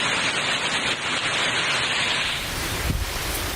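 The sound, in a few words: heavy rain and strong wind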